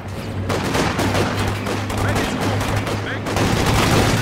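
A machine gun in the video game Company of Heroes 2 fires in sustained rattling bursts, loud and close, packed dense over a constant low engine drone.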